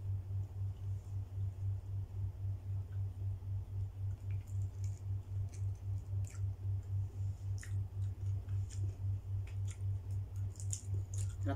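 Close, steady chewing of a meal of soaked dried fish, soft wet squishing bites repeating in an even rhythm over a constant low hum, with no talk.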